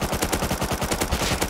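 Rapid automatic gunfire in the video game Rust, a loud, evenly spaced burst of shots repeating quickly with no talk over it.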